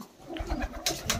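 Punjabi Malwai pigeons coo in a close, low, throaty run of soft repeated calls, with a brief rustle or flutter near the end.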